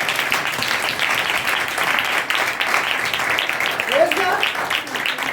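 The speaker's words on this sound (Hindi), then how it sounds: "इस बात के लिए तालियां बजाएं।" A church congregation applauds loudly during a sermon on the Book of Revelation, sustained clapping from a large crowd at close range, with a voice speaking over the applause.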